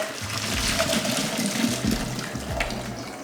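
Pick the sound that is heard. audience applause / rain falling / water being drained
water being drained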